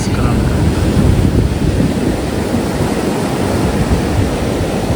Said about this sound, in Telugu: అలలు మాత్రం బీభత్సంగా వస్తున్నాయి.